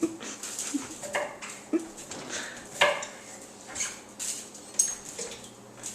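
Light metallic clinks and taps of knives and forks being pulled from a dishwasher, scattered irregularly at close range with soft handling noise between them.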